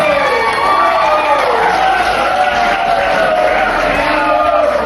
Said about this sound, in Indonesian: Beri aplaus kepada ayahanda kita